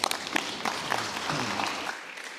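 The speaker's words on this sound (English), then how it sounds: "Let's give them a round of applause." Audience applause at a governor's workforce summit, a steady wash of clapping from a crowd in a hall that swells briefly and then fades out over a couple of seconds.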